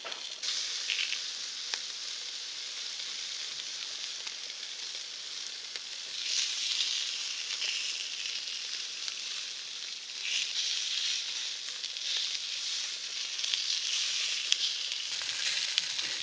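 Food sizzles on a Volcann stainless steel portable BBQ grill, a steady close hiss that swells slightly at moments and runs without speech.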